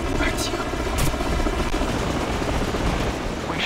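A helicopter's rotor thumps loudly and continuously up close in the Wii game Modern Warfare: Reflex, with gunfire-like bursts and voices mixed into the dense battle noise.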